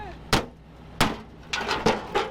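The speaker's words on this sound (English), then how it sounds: "We have a claw hammer." Sharp metallic knocks of a claw hammer striking the underside of a Subaru WRX stuck in snow, five hard blows with uneven gaps, close and loud.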